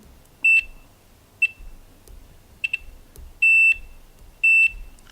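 A low-cost digital multimeter's continuity tester gives a series of sharp, high electronic beeps, some quick chirps and some held for a moment, spaced irregularly against a quiet background.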